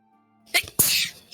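A single sharp sneeze, close and loud, with a short breathy burst followed by the main explosive release and a brief tail.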